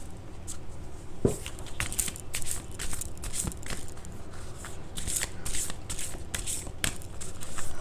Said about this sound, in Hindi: यहाँ पर मैं कुछ मोनोलॉजी कार्ड्स भी उठा रही हूँ और एंजल कार्ड्स भी